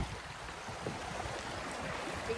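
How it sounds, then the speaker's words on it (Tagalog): Sea waves washing onto a rocky beach make a steady broadband surf hiss with a low rumbling undertone, continuous and moderately distant, with no talk. "Ito ang dagat."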